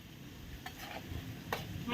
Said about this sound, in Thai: ผัดพริกแกงเลยครับ